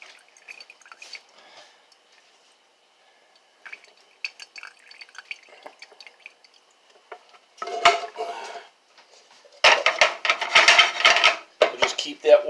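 Grease draining from a chili cooking pan, with metal utensils clinking and scraping against the pan and liquid dripping, starting as sparse quiet taps and building to louder, dense clattering and pouring in the second half.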